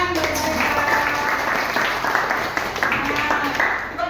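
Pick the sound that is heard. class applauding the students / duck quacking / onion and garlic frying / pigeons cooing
class applauding the students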